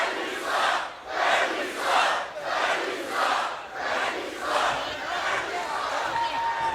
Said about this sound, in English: Crowd here none too pleased with how the system have done business here.